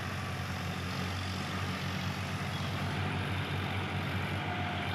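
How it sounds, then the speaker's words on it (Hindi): Two tractors, a Swaraj and a Vivo 50, pull a single rotavator through a field, a steady heavy low engine drone with broadband mechanical churning that holds constant and loud throughout, no talk. "दोनों ट्रैक्टर रोटावेटर चला रहे हैं।"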